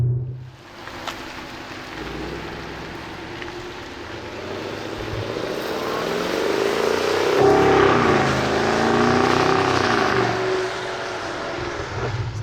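A 2020 Cadillac CT6-V drives fast on a test drive, with a steady roar of engine, road and wind noise inside the cabin. It swells louder toward the middle and then eases off slightly.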